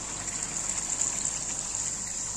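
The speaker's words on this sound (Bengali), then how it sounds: "খুব বেশি জল দেবো না, অল্পই জল দেবো।" Water pours steadily into a pan of fish curry with fried lentil dumplings, giving a continuous close gushing rush that holds level throughout.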